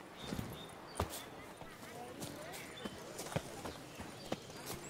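Roach the horse's hooves clopping in The Witcher 3, a steady series of sharp hoof strikes about once per second over a constant background ambience, with someone talking over it.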